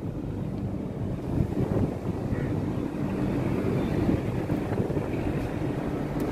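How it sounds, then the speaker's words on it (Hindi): Steady wind rushes past a moving passenger express train in rainy weather near a river in Jharkhand, a continuous broadband roar with low rumble holding constant throughout and no speech. "इतना बढ़िया हवा चल रहा है यहाँ पे"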